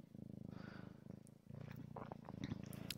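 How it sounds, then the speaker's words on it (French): A cat purrs steadily while being cuddled, a close, continuous rumbling purr with soft rhythmic pulses and brief pauses between breaths, alone with no talking. "alors que Charlotte ronronne et se laisse câliner et câline"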